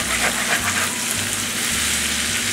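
Potatoes and onions browning in an open skillet, country-style fried, giving a loud, steady sizzle and crackle that fills the whole stretch without pause.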